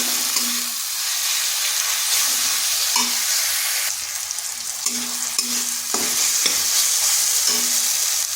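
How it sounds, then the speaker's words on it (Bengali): Tomatoes with spices and salt sauté in a pan, giving a loud, steady sizzle and hiss, broken by repeated scraping stirs and clinks of a spoon against the pan, with no voices. "এটাকে একটু কষে নিচ্ছি। আর লবণটা তাড়াতাড়ি দিয়ে দিলাম, তাতে টমেটোগুলো তাড়াতাড়ি গলে যাবে।"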